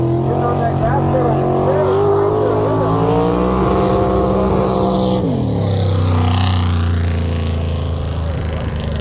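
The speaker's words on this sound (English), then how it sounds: "There goes Steven, getting on that gas pedal." Drift car at Suika Circuit during a Whiskey Garage Drift Series round, its engine revving hard and swinging in pitch as it accelerates across the track, loud and close, with a commentator talking over it.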